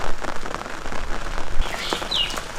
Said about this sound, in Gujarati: વરસાદે આમ જોવો કેટલો મેઘો મંડાણો